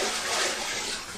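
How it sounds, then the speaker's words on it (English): Steady rushing clean water pouring and splashing over a freshly grouted tile wall, continuous and close, like rinsing under a running flow, with no voices. "So I'm rinsing that out with the clear water, the clean water."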